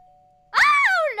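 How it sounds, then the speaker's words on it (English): A video game doorbell gives a short, bright two-note chime that rings out clearly after a faint hum, close and loud. "Was that the doorbell?"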